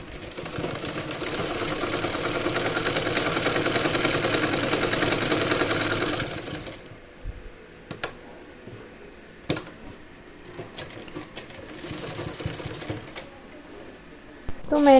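A home sewing machine stitching a handmade blouse whirs loudly and steadily for about six seconds, then stops, leaving quieter room sounds with a few sharp clicks and knocks.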